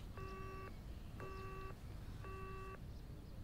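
Phone call hang-up tone: three identical electronic beeps of about half a second each, spaced evenly and heard clearly over a quiet low background hum.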